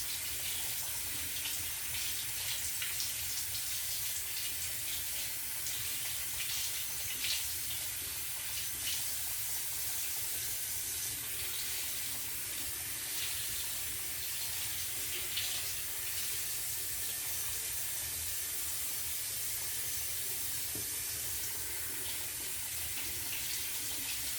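Running tap water rinses soap out of a beauty blender makeup sponge at a sink, a continuous steady splashing hiss with small fluctuations, fairly quiet and unbroken from start to end.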